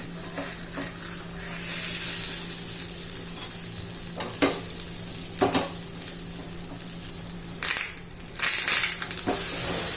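A moong dal pancake is turned over in a hot pan amid continuous sizzling, with several sharp scraping and clattering touches from the spatula against the pan.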